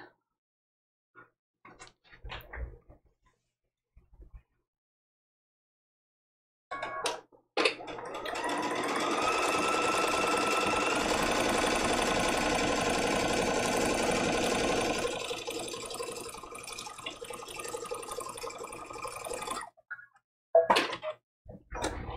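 A sewing machine pieces quilt-as-you-go vintage-inspired placemats, running in one steady rapid stitching burst of about eight seconds after a few clicks and handling noises, then slowing and stopping amid scattered taps.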